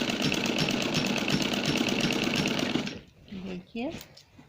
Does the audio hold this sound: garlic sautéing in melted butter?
no